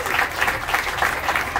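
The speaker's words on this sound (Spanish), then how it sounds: "Fuerte el aplauso" Applause from a small crowd of people, a dense steady patter of many hands clapping at once, fairly close and sustained without a break.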